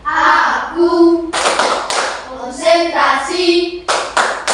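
Children's classroom clapping game: bursts of loud, close hand claps in a rhythmic pattern alternating with kids chanting, the claps landing in quick clusters between the sung phrases.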